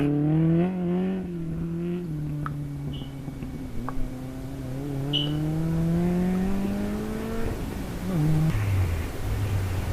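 Rally cars on a forest stage at the Lombard Chepstow Rally Festival, an engine note climbing and falling through gear changes as cars pass, moderately loud with faint background noise.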